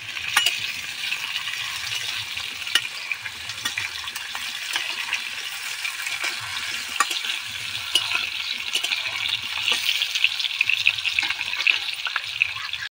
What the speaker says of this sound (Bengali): আলুগুলোকে তেলের মধ্যে দিয়ে নাড়ানাড়ি করছেন